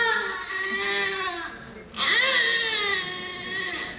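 A baby with gas pain in the lower belly cries in a recording played at a talk on children's emotions: a loud, sustained wail with a brief catch for breath midway, then rising again.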